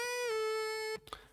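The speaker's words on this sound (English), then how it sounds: "So I just found this lead patch here." A soundfont synth lead patch in GarageBand holds a bright, buzzy sustained note that bends slightly. It cuts off near the end into a couple of quieter soft hits, all fairly faint.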